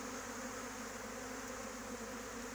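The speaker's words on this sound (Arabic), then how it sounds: "لاحظوا معايا الاخوان ديالي النحل ديالنا بدا كيدخل وسط" Honeybees from a swarm drone steadily at the apiary as they move into the hive, a dense, even buzz of many insects that never breaks.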